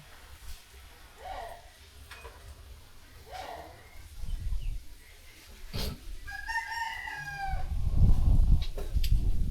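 A rooster crows once in the distance over low background noise, followed by close rustling and scuffling sounds.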